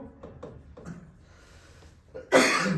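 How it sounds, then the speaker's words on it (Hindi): A single sharp cough bursts out near the end after a few soft breathy sounds, loud and close. "खांसी हो गई बेटा, पता नहीं क्यों"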